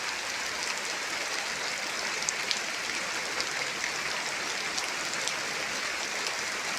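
Heavy rain, the first rain of the year, pours steadily at a rural house in a dense, even roar that holds for the whole stretch without letting up.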